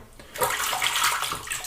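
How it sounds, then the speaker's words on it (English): A shaving brush is rinsed under a running tap, a steady close rush of water that starts after a brief quiet moment and continues evenly to the end. "rinse a little bit"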